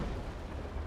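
Naval cannon fire in the sailing battle game Naval Action: Legends booms as a deep, rumbling blast, low and continuous with a muffled, heavy roar and no voices.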